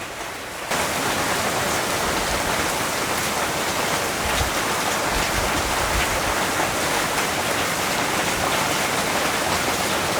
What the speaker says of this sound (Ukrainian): Так, дорогенькі, дощик номер два.